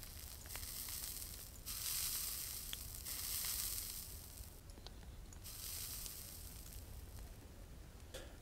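Corn and tomatoes cook over a fire in the survival video game Mist Survival, giving a faint, steady crackling sizzle that swells and eases in waves, with no talking.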